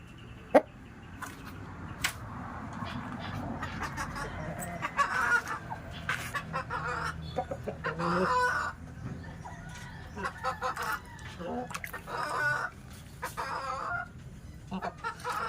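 Shamo chickens, a game fowl breed, cluck and call at a farm, with scattered bursts of clucking and occasional louder calls over steady background noise throughout.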